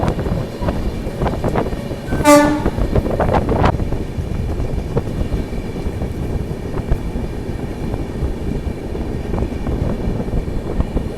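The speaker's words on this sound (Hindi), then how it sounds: "दानापुर सिकंदराबाद काफ़ी डिमांडिंग ट्रेन है" Danapur–Secunderabad express train running loudly with steady rumble and wind buffeting, a sharp horn blast sounding briefly early on, no talking.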